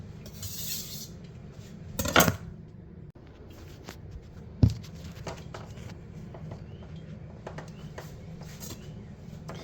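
A steel kitchen knife is sharpened on a whetstone, giving a series of light metallic scraping strokes at close range, with a couple of sharper clinks standing out from the quieter rhythmic passes.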